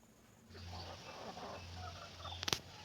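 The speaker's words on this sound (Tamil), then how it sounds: "இந்த சேவல்கள் தான்." Faint fighting-breed rooster calls heard from a distance, a short throaty crow rising out of quiet background hiss.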